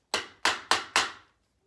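Four sharp hammer whacks on a chair part during assembly, evenly spaced and close, each strike ringing briefly before the next, with no talking.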